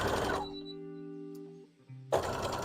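A home sewing machine stitches detail on a fabric tail with a steady, close whirring hum, pauses briefly, then runs again in a short burst.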